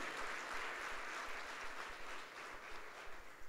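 A church congregation applauds for Jesus during a Sunday service, a steady wash of many hands clapping at moderate distance, dense and continuous without breaks.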